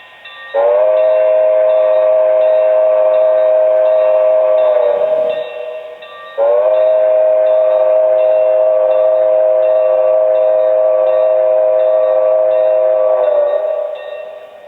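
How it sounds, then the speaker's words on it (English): Two long, loud blasts of a model train whistle, each steady and sustained, separated by a brief pause. "take a listen to the bell and whistle real quick"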